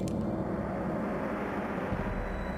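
A helicopter in the Jurassic Park video game gives a continuous, even droning rumble of engine and rotors, steady and fairly close with no voices.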